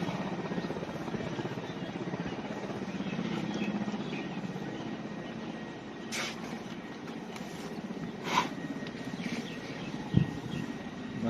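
A landing airplane's engines roar over an elephant show arena, a loud steady broadband rumble that fills the whole stretch, with a few brief sharper noises on top.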